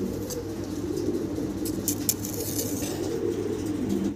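Mundian fancy pigeons cooing in a continuous low, throaty drone, close and moderately loud, with occasional scratchy clicks and rustles over the top.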